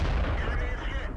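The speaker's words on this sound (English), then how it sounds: "we have a lot of tank destroyers back here opening fire." Tank destroyers open fire in the online tank-battle game World of Tanks, heavy booming gun blasts that run together into a rumbling barrage, with a voice talking over it.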